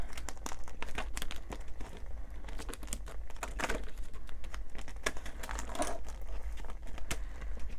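Paper cash being handled and pulled from a paper budget envelope, with continuous close crinkling and rustling and a few sharper crackles, steady throughout with no talking.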